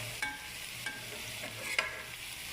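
Stirring and frying in a pan until browned, a soft steady sizzle with three or four distinct spoon scrapes against the pan, quiet and without talking.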